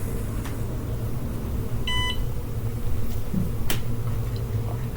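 A NicLink electronic chess board device gives a single short, high electronic beep, faint against a steady low background hum, with no speech.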